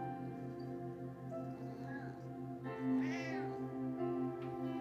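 A pet cat meows indoors during a home livestream, with a sustained, rising and falling call over a steady low background hum, fairly close and clear with no talking.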